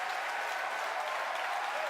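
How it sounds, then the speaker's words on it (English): A crowd cheers and applauds at a Falcon Heavy launch during booster separation, a steady wash of clapping and shouting throughout. "if you can hear me over the cheering"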